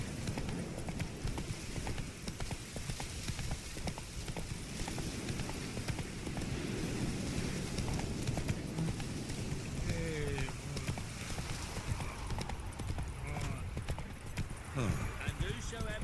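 Roach, a horse in The Witcher 3, galloping with a fast, steady clip-clop of hoofbeats under game music and ambience, while a voice talks over much of it.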